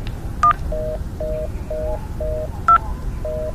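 Phone keypad dialing tones: a rapid series of short, evenly spaced DTMF beeps with two slightly higher blips, clear and close with no talking.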